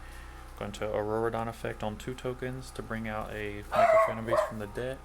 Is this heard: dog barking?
yes